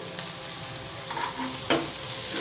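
Onions and curry leaves sautéing in a pan for dried-fish thokku, a continuous close sizzle with faint stirring and one brief sharp scrape.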